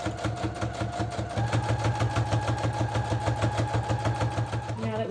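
A sewing machine with a regular needle running a long straight stitch around a plush fabric journal cover, a fast, even mechanical chatter that steps up in speed after a moment and runs steadily.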